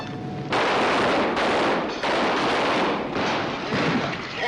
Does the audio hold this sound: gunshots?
yes